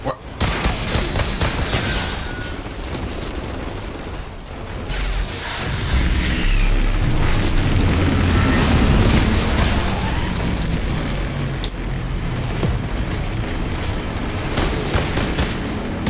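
Sustained gunfire and booming explosions from the Outriders shooter game fill the scene loudly and continuously, with bursts of shots over a dense roar and occasional voice underneath.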